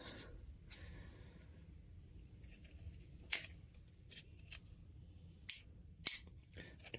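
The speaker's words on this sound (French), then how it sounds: "À ce stade-là, je pense qu'on peut utiliser la pince coupe." Wire cutter pliers snip during an electrical repair on a Renault Megane with a card-not-detected fault, giving a few crisp, isolated clicks spaced apart in an otherwise quiet room.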